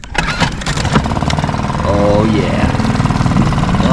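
A Suzuki 2.5hp outboard motor mounted on a Nucanoe kayak starts and settles into a steady idle, a close, continuous engine drone with a rising pitch sweep partway through. Someone speaks briefly over it.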